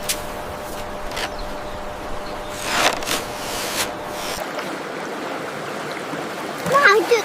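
Water flowing into a small sand dam built with a toy plastic excavator, a soft steady trickle and stream with a few louder splashy bursts, while someone speaks.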